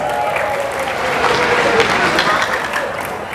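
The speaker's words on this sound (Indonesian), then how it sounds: "Tepuk tangan buat TELAS." An audience at an Indonesian entrepreneurship seminar claps for a department being called out. The applause is loud and sustained and fills the hall evenly for the whole moment.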